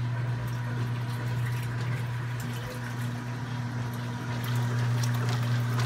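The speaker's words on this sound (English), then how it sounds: "now we're going to start the agitator again" Washing machine agitator churning water to mix dye for renewing clothes, a steady low motor hum with continuous sloshing and swirling water, fairly close and even throughout.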